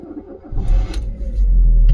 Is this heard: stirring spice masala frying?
no